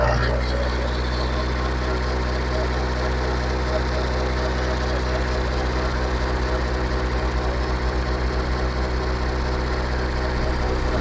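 A Tata Sumo Grande's diesel engine runs loud and close, holding a steady heavy rumble with slight rises in revs and a dense low vibration throughout.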